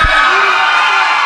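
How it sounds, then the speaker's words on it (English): A raucous wrestling crowd roars loudly and continuously, a dense wall of cheering and shouting voices filling the arena without letup. "This crowd is raucous."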